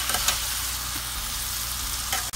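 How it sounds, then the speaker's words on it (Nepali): Pumpkin spiral greens sizzle and hiss steadily while being stirred and fried in a pan, loud and close, with faint scraping from the stirring and no talk. "सबै फर्सीको मुन्टा राखिसकेपछि यसलाई फर्काई फर्काई चलाउने"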